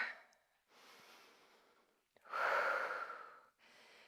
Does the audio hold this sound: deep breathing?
yes